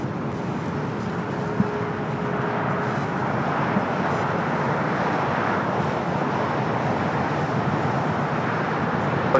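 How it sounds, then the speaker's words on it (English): A United Dreamliner airliner rolls down runway 25 right at LAX, a steady broad engine roar heard from a distance that holds even throughout, mixed with general airport background. "we do have a United Dreamliner now rolling down at 25 right"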